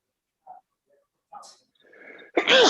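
A single sharp sneeze bursts out at the end after a few faint sniffs and breaths, close and loud.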